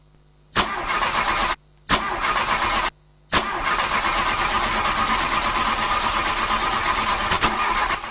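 A car engine cranks and sputters briefly twice, cutting out each time, then catches on the third try and keeps running with a loud, steady mid-pitched drone.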